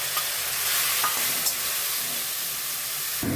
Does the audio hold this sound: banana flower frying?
yes